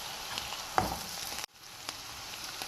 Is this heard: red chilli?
yes